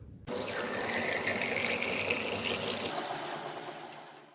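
Celery juice strains through a filter in a steady, close pouring trickle that starts abruptly and keeps flowing evenly, fading slightly near the end.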